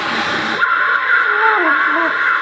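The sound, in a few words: trumpet played by a beginner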